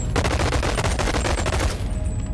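Submachine gun fire in the VR game Bonelab: a loud, dense, rapid automatic burst lasting about two seconds, close and continuous, then a short tail of reverb with no speech.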